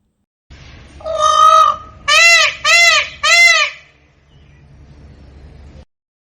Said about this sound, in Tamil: மயில்